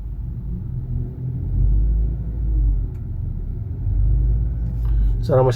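A 2019 Nissan Livina VE automatic runs with a smooth, low, steady engine rumble heard up close. The hum rises and falls gently, and a voice starts speaking briefly at the very end.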